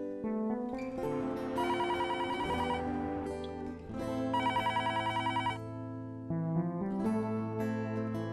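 A home telephone rings in repeated electronic trilling bursts over a background of music, fairly clear and continuous, with no talk.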